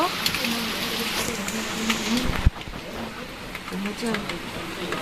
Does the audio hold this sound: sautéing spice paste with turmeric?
no